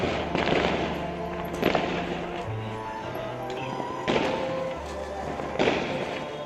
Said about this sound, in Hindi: ये सारे लोग घर पे दिए जला के पटाखे चला रहे हैं